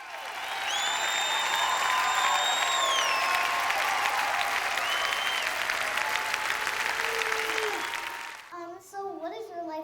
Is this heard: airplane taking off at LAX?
no